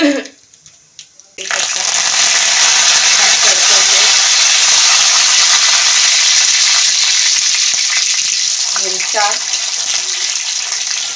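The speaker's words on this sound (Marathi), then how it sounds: "मोहरी टाकली आणि आता जिरं टाकते" Mustard seeds and cumin drop into hot oil and burst into a loud, close, continuous sizzle and crackle that holds steady. A voice speaks briefly near the end over the frying.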